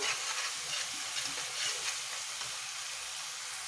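Mixed river fish curry masala with dried red chili powder stirred in a hot pan, giving a steady, even sizzling hiss with soft scraping throughout and no voices.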